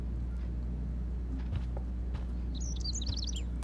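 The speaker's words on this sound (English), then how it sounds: "Bird, be gone. Fly, you fool." A bird chirps in a rapid high twittering burst late on, within the video game Life is Strange: Chaos Theory, heard over a steady low game ambience with a few soft thuds.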